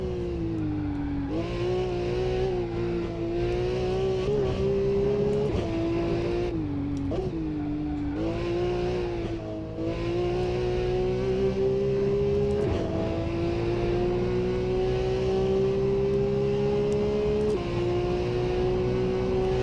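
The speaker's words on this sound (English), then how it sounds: "But just the sound it makes as you're high in the rev range, pulling gears, it's a wonderful noise." A Porsche sports car engine screams high in the revs, pitch climbing and dropping with each gear change, loud and continuous without any talking.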